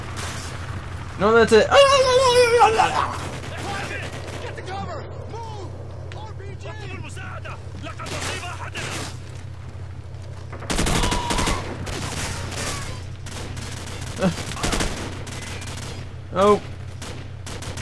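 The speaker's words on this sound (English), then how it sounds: "Another one! They're just unlimited grenades." Gunfire and grenade explosions in the video game Call of Duty: Modern Warfare come as a loud rattling burst early on, then scattered sharp booms and shots, mixed with a player's brief exclamations.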